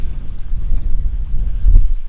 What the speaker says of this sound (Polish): Nie wiem, czy będzie dobrze słychać, bo strasznie wieje.